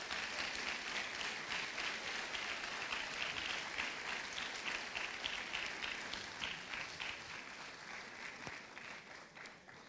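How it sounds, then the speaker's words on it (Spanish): A church congregation claps together in praise during a service, a full, even wash of many hands that runs steadily and tapers slightly toward the end, with no talk. "Demos una ofrenda de palmas al Señor."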